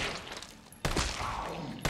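A single sharp handgun shot fired at a zombie's head in Resident Evil 3 Remake, a sudden loud crack followed by a short reverberant tail and another shot just starting at the end.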